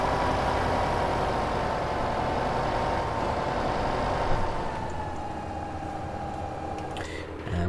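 A Zeta Proxima 120 tractor with a front loader attachment idles steadily in Farming Simulator 2015, giving a close, even engine hum with a low drone that drops slightly in pitch before cutting off near the end.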